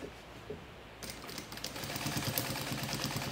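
A sewing machine starts up after a short quiet moment and stitches steadily while a baby diaper holder is being sewn. The motor runs as a close, continuous whir that grows slightly louder toward the end.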